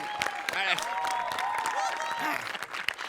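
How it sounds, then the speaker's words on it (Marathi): Audience applause at a comedy show, a brief burst of clapping from a crowd, moderately loud, heard alongside music and speech. "एकदा जोरदार टाळ्या तिच्यासाठी"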